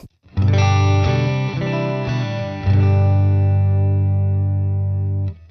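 Eart NKC3 electric guitar on its middle pickup strums a few sustained, overdriven chords that ring out loudly and decay slowly, with no talking.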